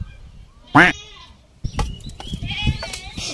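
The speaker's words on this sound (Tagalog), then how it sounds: "Pagpasensyahan nyo na yung kambing." A single loud, wavering bleat from a nearby goat, followed by farmyard clatter and rustling noises.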